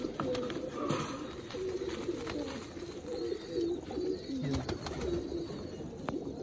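Pigeons coo repeatedly in low, throaty warbles, close by, against a busy background of rustling and faint chirps.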